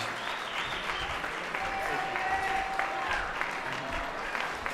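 Audience applause at an Emmy awards ceremony, a large crowd clapping in a dense, even wash that holds steady throughout, loud and unbroken by talk.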